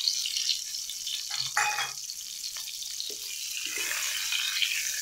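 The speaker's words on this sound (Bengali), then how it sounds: "এটাকে আমি এখন 2-3 মিনিট ধরে এটাকে ভালো করে ভাজব" Diced potatoes fry in hot oil in a pan for a Bengali pumpkin and potato curry, giving a steady close sizzle with a few stirring scrapes and no talk.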